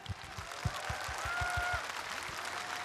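Sustained applause from a large crowd at the 10th anniversary memorial ceremony for former President Roh Moo-hyun in Bongha village, a steady dense wash of clapping with soft low thumps running through it, no voices.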